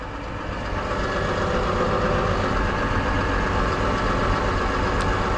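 A Case universal farm tractor's engine runs at a steady, loud drone close by, out on a farm hauling manure, with no voices.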